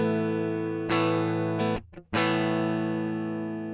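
Electric guitar through an Overloud TH-U amp simulator with treble boosted and distortion lowered, sustained ringing chords that are restruck twice, then briefly muted before a final chord rings out.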